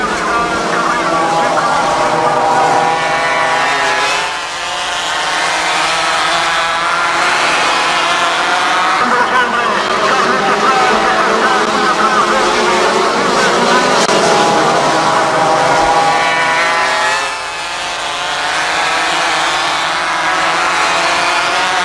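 Loud, continuous roar of about twelve racing motorcycle engines revving and droning for the whole stretch, with brief dips as machines pass, and a voice talking over it.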